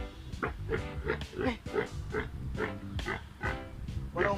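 A pig grunts repeatedly in a steady series of close, rough snorts and oinks, at a farm where pigs are kept for roasting.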